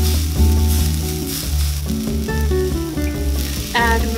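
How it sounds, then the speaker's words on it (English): Scallion, garlic, ginger and chives sauteing in a hot pan, a steady sizzle running under loud background music with piano-like notes, no talk. "Preheat the pan, then saute scallion, garlic, ginger,"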